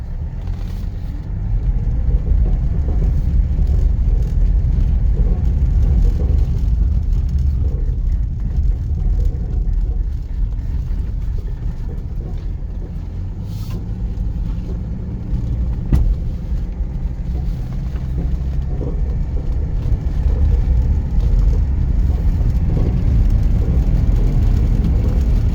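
A 1978 Mercedes 300SD W116 turbodiesel pulls along in gear with a steady, loud low rumble and whir heard from inside the car, alone and unbroken.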